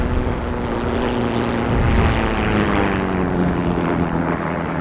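Propeller aircraft engine drone swelling and fading with a broad roar as a plane crashes in the video game Heroes & Generals, near and steady throughout with no voices.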